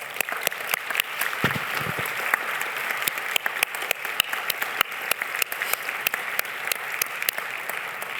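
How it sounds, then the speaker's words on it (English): Sustained applause from a large crowd, steady and even throughout, with sharp individual claps standing out against the wash of clapping. "So let's all give those supporters a big round of applause."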